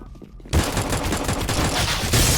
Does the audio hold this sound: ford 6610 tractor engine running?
no